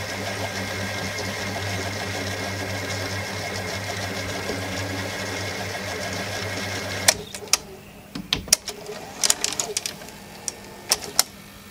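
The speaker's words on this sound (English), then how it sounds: "They start off a bit slow. Here it goes. So it's making a bit of a funny noise." A Panasonic G mech tape mechanism runs with a steady whirring, humming drone and a slightly odd noise, then the drone stops abruptly and gives way to scattered clicks and clacks.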